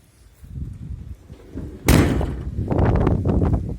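The door of a Volkswagen Crafter van is opened and shut, first shuffling and rattling, then a sharp, loud slam followed by clunking and rumbling of the body.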